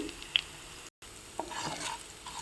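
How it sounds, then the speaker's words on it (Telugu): Finely chopped green chillies and a pinch of asafoetida frying in a pan for a bottle gourd milk curry: a soft steady sizzle with a few light stirring clicks, close but quiet, broken by a brief cut. "చిల్లీస్ కాస్త ఫ్రై అవ్వాలి."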